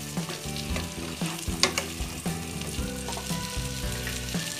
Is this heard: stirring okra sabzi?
yes